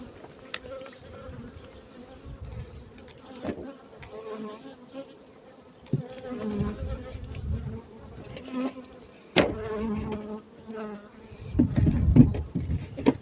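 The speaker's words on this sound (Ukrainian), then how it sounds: "закриваємо бджілки починають хвилюватись" Honey bees buzz in a swelling, droning hum around an opened hive, rising and falling as they grow agitated while it is closed, with occasional knocks and bumps of beekeeping equipment.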